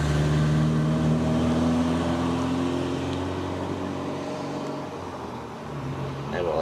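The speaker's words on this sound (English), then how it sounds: "Nevertheless, an older four-wheel drive." An older four-wheel drive rally car drives past with a steady engine drone that holds loud, then slowly eases off before swelling again near the end, heard at moderate distance.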